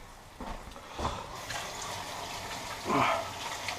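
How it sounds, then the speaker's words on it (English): Tap water runs in a kitchen while hands are rinsed after shaping rice flour dough, a soft steady flow with a few brief louder splashes. "I can rinse my hands"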